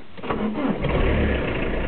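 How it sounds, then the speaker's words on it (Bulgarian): A car engine starts in cold weather around 1 degree after the preheat light goes out, turning over and catching into a steady rough idle, close and continuous. "Така пали колата."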